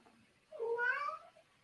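A single cat meow from the 1979 horror film Phantasm, rising and falling over about half a second, clear and fairly close against a quiet background.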